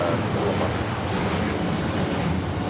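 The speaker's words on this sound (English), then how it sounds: "This is El Al Flight 6 taking off to Tel Aviv on the 787-9 Dreamliner." An El Al Boeing 787-9 Dreamliner takes off at Los Angeles International Airport, a loud, continuous jet engine roar with a voice speaking over it.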